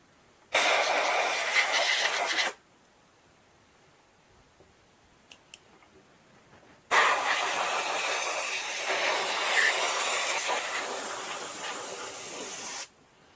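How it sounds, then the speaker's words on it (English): Compressed air at about 40 psi blasts through an air nozzle onto a whitetail deer antler mold, two loud hissing bursts of roughly two and six seconds separated by a quiet gap with faint small clicks. "I've got about 40 psi of air going through the air nozzle"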